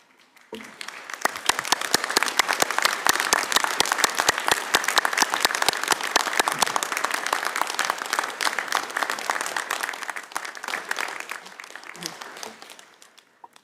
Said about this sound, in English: acknowledge your family and friends with a round of applause